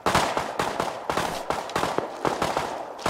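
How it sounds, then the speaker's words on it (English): Repeated gunshots in the survival game Rust, about a dozen sharp loud cracks at an irregular, fairly quick rhythm, heard alone without talk. "Nothing more peaceful than fishing while gunshots go off."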